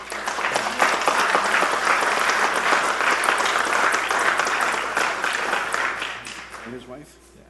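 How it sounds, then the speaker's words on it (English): An audience at a town council meeting claps steadily for several seconds, dense and moderately loud, then fades out near the end. "Clap for him."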